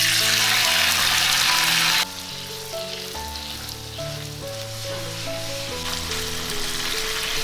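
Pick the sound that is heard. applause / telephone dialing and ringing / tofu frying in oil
tofu frying in oil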